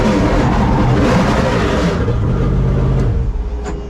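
A Ford Mustang RTR engine roars loud and close in a sustained rumbling rev as the clutch is dropped hard, then the sound drops off and turns choppier near the end.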